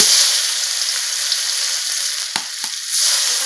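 Whole dried chillies, garam masala, bay leaf and chopped onion hit hot oil in a kadai with a loud, continuous sizzle and a couple of sharp stirring knocks near the end.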